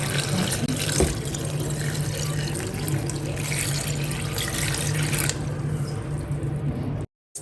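Water is poured steadily into a pot of wrapped Fante kenkey for steaming, a continuous close rushing splash that eases near the end before cutting off.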